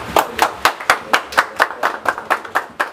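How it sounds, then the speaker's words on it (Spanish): Rhythmic, evenly spaced hand claps ring out at a birthday party with mariachi music, about a dozen crisp beats in steady time, close and clear with no talking. "Fuerte el aplauso"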